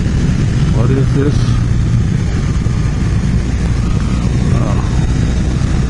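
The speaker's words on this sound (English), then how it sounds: "Truck with construction material." A truck loaded with construction material rolls past on a commuter route, its engine drone loud and steady under heavy road and wind noise while a voice talks over it.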